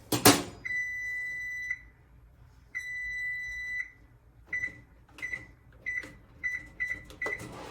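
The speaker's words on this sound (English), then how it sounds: "I'm gonna set the timer for 3 minutes." A microwave oven timer gives a few long, sustained tonal beeps, then a rapid series of short beeps, close and clear, with light kitchen clatter between them and no talking.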